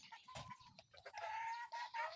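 A brooding hen clucks repeatedly in short, close bursts, with other birdsong and faint farm sound in the background.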